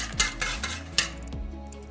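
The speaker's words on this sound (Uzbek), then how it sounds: "venchikda ozgina ko'pirtiramiz." A whisk beats three freshly cracked eggs in a bowl for dough, giving a few light metallic clinks and scrapes against the bowl over a couple of seconds, close and fairly quiet.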